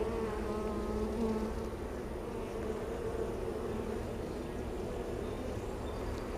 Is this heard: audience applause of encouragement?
no